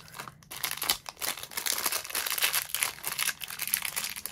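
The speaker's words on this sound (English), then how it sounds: "I hope you don't mind the crinkling noise." Plastic packaging from a Temu haul crinkling steadily close up as items of dice and LEGO-style bricks are unwrapped, a dense continuous rustle with sharper crackles throughout.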